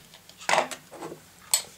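A teaspoon scoops heaped salt for kefir rye-wheat bread dough, a couple of short close clinks and scrapes of metal against a container in a quiet kitchen.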